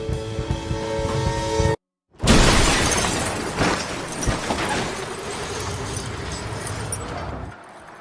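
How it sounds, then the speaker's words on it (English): A movie car crash: a tonal musical passage cuts to a brief silence, then a loud impact bursts in with shattering glass and breaking debris, followed by lingering crunching and rumbling that dies away abruptly near the end. "then his car crashes on the way back"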